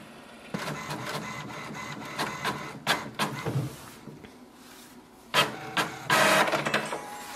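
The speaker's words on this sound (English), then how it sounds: "click on the clean and wait for the printer to do it" An HP Envy 6000e inkjet printer runs a print-head cleaning cycle, giving a series of mechanical clicks, clunks and whirring carriage movements in irregular bursts, with louder clattering passages near the end and no talking.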